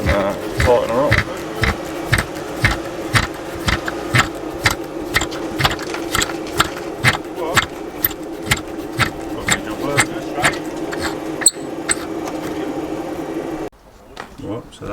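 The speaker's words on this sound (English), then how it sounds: "I'll put a spanner on it" A 22mm spanner tightens a bolt on a Renault Megane RS250, making a long run of regular clicking strokes over a mechanical hum, close and fairly loud, with someone talking over it.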